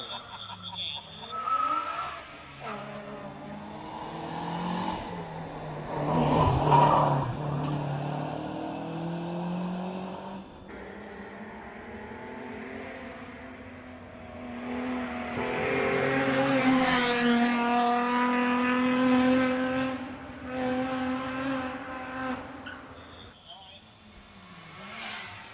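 A stock-looking sleeper car shoots round bends at a retro car gathering, its engine rising and falling through revs with tyre noise as it passes at a distance, under steady live commentary talk.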